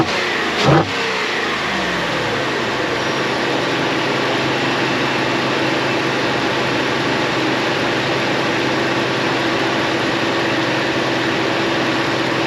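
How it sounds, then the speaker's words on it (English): A Ford F-150 with the 5.0 Coyote V8 and stock air box revs hard after a brief start, a loud steady engine roar held close by for the whole stretch with no talk. "let's crank it up so that you can hear it with the stock air box"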